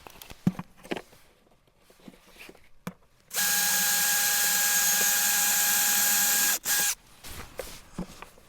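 A drill with worn bits runs loudly and continuously for about three seconds, stops briefly, gives a short final burst, with quieter clatter and handling sounds around it.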